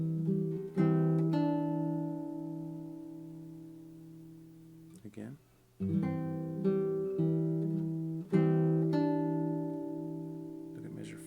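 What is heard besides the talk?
guitar playing chords from Un Dia de Noviembre, Leo Brouwer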